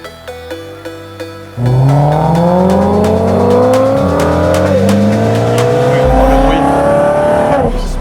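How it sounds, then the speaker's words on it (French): A BMW 335i engine idles briefly, then roars into loud revving with a raspy exhaust note, pitch climbing through gear changes close by. "le bruit avec la ligne, je trouve ça très beau"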